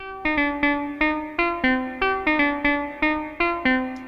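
A synthesizer step sequence on a Super Sixteen: about a dozen short plucked notes at maximum brightness repeat in an even, bouncy rhythm, each decaying quickly before the next.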